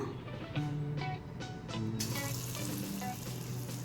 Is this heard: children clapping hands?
no